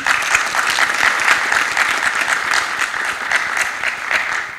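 Audience at a press conference for a cavalcade event in Salcedo breaking into sustained, loud clapping that fills the room evenly from start to finish, with no one speaking.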